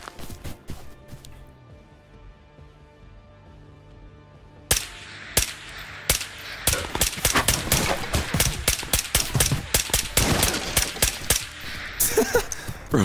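Gunfire in the shooter game Ghosts of Tabor: after a quiet stretch of faint ambience, a dense run of sharp, loud shots begins and keeps cracking in rapid, uneven bursts, close by, with no talk over it.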